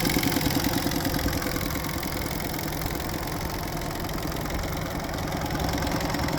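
A 2019 Mercury (Tohatsu) 30 hp in-line three-cylinder EFI four-stroke outboard idles steadily and close, a continuous low mechanical drone with even pulsing and no talk.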